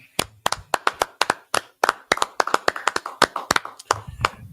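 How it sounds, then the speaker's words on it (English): A small group clapping at a class, sharp distinct handclaps in a quick, slightly uneven rhythm, fairly close and clear with no talk over them. "Let's go ahead and clap it up."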